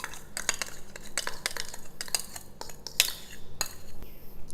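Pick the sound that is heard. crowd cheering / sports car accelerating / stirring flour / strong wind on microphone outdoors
stirring flour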